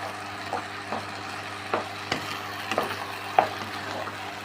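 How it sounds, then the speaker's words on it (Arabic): White rice stirred in a pot, a soft background sizzle with scattered scraping clicks and taps of a spoon at an uneven pace, close and fairly quiet. "هنقعد نقلب فيه كده"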